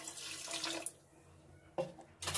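Two glasses of water splash and pour steadily into a pan of potatoes and dry spices, then trail off, with a couple of brief splashes afterward; no one speaks.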